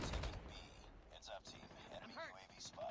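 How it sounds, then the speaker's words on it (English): Rapid bursts of gunfire from a laser tag video game tournament crackle at the start, then thin out under an excited commentator's voice. "We're hearing a lot of gunfire"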